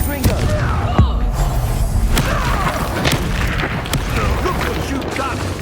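A Confringo blasting spell explodes during a Hogwarts Legacy fight, a loud booming blast with rumbling debris inside dense, busy game sound, with voices talking over it.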